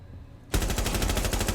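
Video game gunfight with a rapid automatic burst that starts abruptly after a short quiet moment and keeps hammering in a fast, even rhythm.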